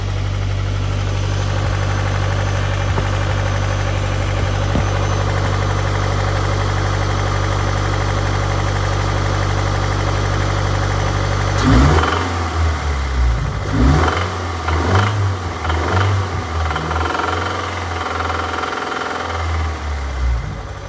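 A car engine with bent connecting rods idles steadily, then revs up and down several times, a rough tapping knock audible under the running engine around 2,500 RPM, close and loud.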